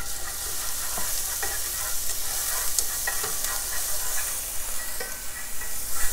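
Minced garlic, soaked in oil and still cold from the freezer, sizzles with onion in a pan, giving a steady close hiss with light stirring scrapes throughout.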